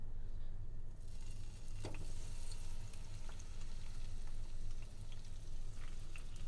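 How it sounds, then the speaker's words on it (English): Half an onion frying in a heated pan, giving a steady close sizzle and crackle that runs throughout, with small pops and stirring noises over the continuous hiss. "So I'm going to put half the onion in this pan since it has heated up."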